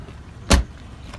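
A single short, loud thunk of a car trunk being popped open, close by and alone, with quiet around it.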